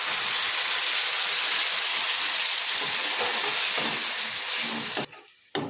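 Spice paste hits a hot pan with curry leaves for mint rice, giving a loud, steady sizzle and frying hiss with stirring that drops away abruptly near the end.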